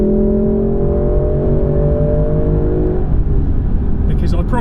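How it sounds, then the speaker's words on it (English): A Lexus LC500 with a 5.0-litre naturally aspirated V8 plays a steady, tonal engine note while driven on a UK road, the pitch easing down gradually, with a brief rustle near the end. "we'll sign off on that engine note one more time"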